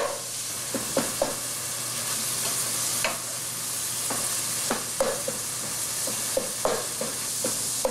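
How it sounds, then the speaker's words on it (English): Meat sizzles steadily in olive oil over medium-high heat, a constant bright frying hiss broken by intermittent clicks and scrapes of stirring. "I really just want this meat to get nice and tender with the olive oil."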